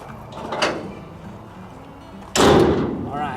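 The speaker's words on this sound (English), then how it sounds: "So we'll go ahead and slam this side as well." A metal side gate on a dump trailer slams shut with one loud, sharp clang that rings on briefly. It comes after a stretch of quieter background noise.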